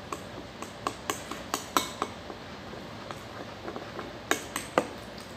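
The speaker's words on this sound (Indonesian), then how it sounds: "kita aduk," Metal spoon clinking and scraping against a pot while Arabian mandi rice is stirred, a run of light, sharp, irregular taps close by, with a few louder clanks toward the end.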